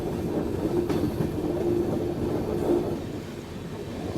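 An express train crosses the Ganges rail bridge at night, heard from inside as a loud, continuous low rumble of wheels with faint rhythmic clatter and a steady metallic hum.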